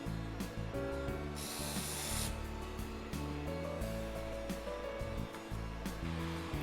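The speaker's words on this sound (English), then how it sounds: "These machines cross-wind the thread onto the cone, so when the thread is spooled off the cone, it does not add additional twist to the thread." Thread winding machines cross-wind thread onto cones in a factory, a dense, loud mechanical whirring and rasping with layered steady tones and a brief hissing burst near the start, without speech.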